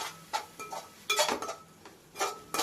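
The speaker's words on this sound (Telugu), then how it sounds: "ఇలా మధ్య మధ్యలో తిప్పుకుంటూ ఉండండి, లేదంటే మసాలా మాడిపోయి ఘోరంగా తయారవుతుంది." A spoon scrapes and clinks against a kadai as masala is stirred, several separate bursts of metallic scraping spread across the moment, close by and fairly quiet, with no voice.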